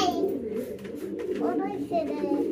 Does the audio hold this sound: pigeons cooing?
yes